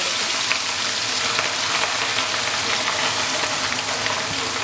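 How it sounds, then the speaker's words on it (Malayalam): Chicken sausage fries in oil in a pan over a medium flame, a dense, steady close sizzle that holds evenly throughout with no voices. "ഇതൊരു മീഡിയം തീയിൽ വെച്ച് വേണം ആക്കാൻ. നമുക്ക് വറുത്തെടുക്കാം."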